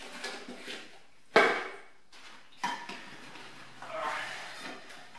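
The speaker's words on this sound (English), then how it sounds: "I've also got a collapsible kettle. Now that just pops out, and you can boil water in there." A collapsible camping kettle popped open outdoors: a few sharp plastic-and-metal snaps and clunks, one loud pop followed by softer rattles and rustling, with no talk.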